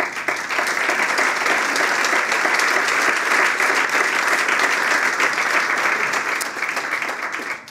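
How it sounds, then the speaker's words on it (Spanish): A dense, even wash of audience applause at an awards gala continues loudly and without pause, a full crowd clapping together close by. "El aplauso para ellas"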